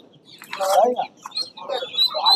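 Chickens cluck in short bursts amid a busy hen and duck market in Sarisha, South 24 Parganas, close by, with other birds chirping faintly and market chatter underneath.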